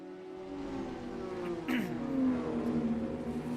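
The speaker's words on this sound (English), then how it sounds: "It's great to hear the cars roaring into life" GT4 race cars at Bathurst rev and roar, engine tones rising and sweeping as they pass, moderately loud over a low background with faint commentary.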